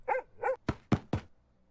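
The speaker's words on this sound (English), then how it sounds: "Sudden barking and a shout startled us both" A dog gives two barks followed by three sharp thuds as a sound effect in a story, short and close.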